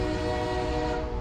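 A train pulling out of a station, heard as a steady low rumble with sustained tonal horn-like hums, continuous and fairly close with no talking.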